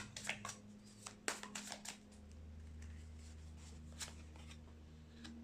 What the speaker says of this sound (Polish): Te karty już były tasowane, ale jeszcze tak na żywo